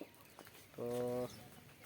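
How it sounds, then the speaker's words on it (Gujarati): A single short, clear clucking call rings out nearby as sparrows and partridges arrive to feed on a farm, and it is framed by a quiet outdoor background. "ચકલા ચારવા આવી ગયા તેતરા આવી ગયા"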